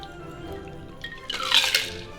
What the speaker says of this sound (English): Pour that into your highball glass.